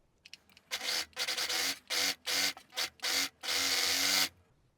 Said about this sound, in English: I will finish those edges with the overlock